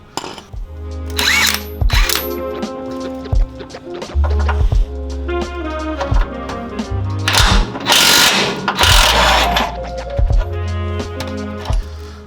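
A power tool, likely an impact wrench, works at a big bolt on the lower control arm of an 80 Series LandCruiser's rear suspension, with loud close bursts of whirring and hammering, ratcheting clicks and short pauses between runs.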